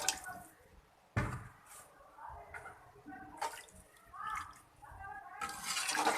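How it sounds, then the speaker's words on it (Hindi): Water poured into a pot for black rice and chickpea pulao, a steady splashing pour with drips that keeps going under a voice, with several louder surges of pouring. "जी, अब ये भी वाटर ऐड कर दूँगी।"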